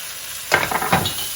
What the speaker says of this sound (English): I'm just going to cook this on medium heat, not low heat. I just want to soften them up slightly